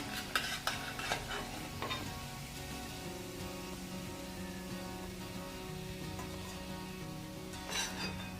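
Leftover chapati pieces shallow frying in a pan, a continuous crackling sizzle like light rain, with a few sharp clinks and scrapes at the start and again near the end.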